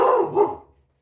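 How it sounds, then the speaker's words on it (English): A dog barks twice indoors in a home kitchen, two quick loud woofs close by that fade out within a second. "My guard dog's at it."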